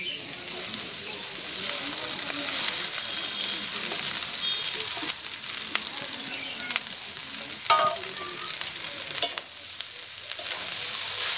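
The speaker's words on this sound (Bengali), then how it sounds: "এবার আমি দিয়ে দেব বেঁচে যাওয়া ভাতগুলো" Leftover rice tips into a pan with fried egg and chopped green chillies for egg bhuna rice. A steady, moderate sizzle carries through, with occasional stirring clinks and scrapes and no talking.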